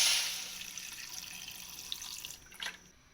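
Water pours in a steady, splashing stream into a cooking pot of mutton with garlic and ginger, fairly loud at first and then thinning out into a few final trickles and drips.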